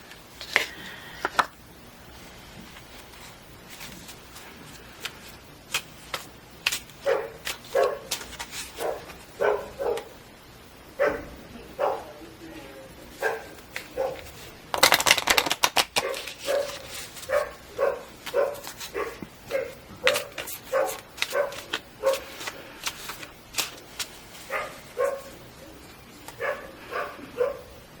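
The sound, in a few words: dog barking outside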